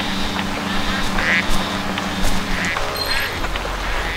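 Ducks quack in a Duck Dynasty hunting video game, heard from an RV blind, a few short calls rising over steady game ambience and a low engine-like drone.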